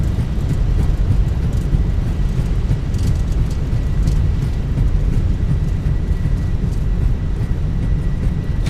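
An Airbus A320 in a flight simulator rolling out after landing with thrust reversers deployed, giving a loud, continuous low roar and rumble that stays steady throughout with no voices.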